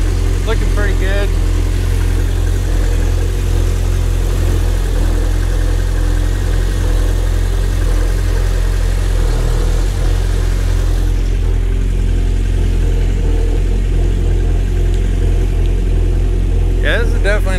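A homemade mini jet boat engine idles steadily and loudly on its first run in a river with rocks, a constant low drone filling the whole stretch, with faint voices underneath.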